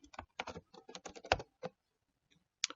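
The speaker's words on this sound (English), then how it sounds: "If you type in here, let's say read cycle." A quick run of keystrokes on a computer keyboard, entering a short route name into a browser address bar. Irregular clustered taps come close and crisp, then a pause and a couple of final presses, with no speech.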